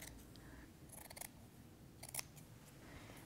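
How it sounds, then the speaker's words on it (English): Large, very sharp sewing shears cut through a cotton T-shirt in a few quiet, crisp snips around the one- and two-second marks, close up against a soft room background with no talking. "taking your larger, very sharp shears, go ahead and just continue and cut."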